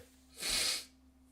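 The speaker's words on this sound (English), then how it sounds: "There's something in my room that is making me want to sneeze." A single sharp human sneeze bursts out close by in an indoor room, breathy and loud against a low steady background hum.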